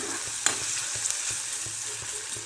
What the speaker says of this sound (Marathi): कांदा छान तेलात घ्यायचा तळून